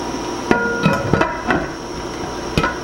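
Metal knocks and clanks as the lid of a pressure canner is set on and lined up for tightening, about six sharp, irregular close hits over a quiet background.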